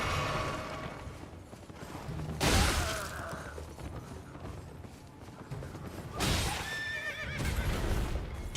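A horse in the video game Elden Ring whinnies in two loud, drawn-out bursts, set against game combat noise with clattering and clip-clop hooves in between.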